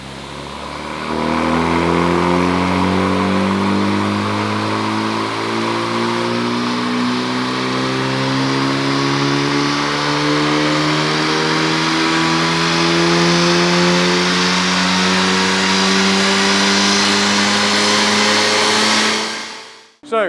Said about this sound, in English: So the car's now strapped to the dyno.